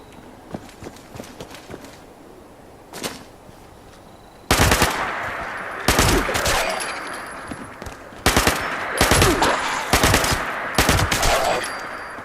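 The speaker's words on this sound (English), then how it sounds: "Yeah, I've got a fucking submachine gun." Submachine gun in Fallout 76 fires several loud rapid bursts separated by short pauses, starting with one distant shot before the heavier volleys kick in.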